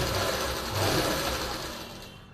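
A sewing machine stitches the pocket onto a heavy palazzo, giving a continuous, loud, close motor whir that fills the brief moment without pause.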